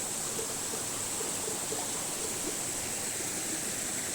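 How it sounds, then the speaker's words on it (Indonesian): A river flows through dense forest near a cave in Bondowoso, East Java, giving a steady, even wash of rushing water with no voices. "Ini sungai ya, sungai."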